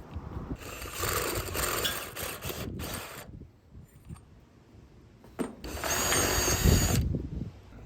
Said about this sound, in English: I gotta drill through my roof right now